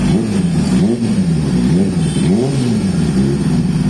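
Motorcycle engine revving at a shop opening in Coimbatore, rising and falling in repeated swells, loud and close with no talk.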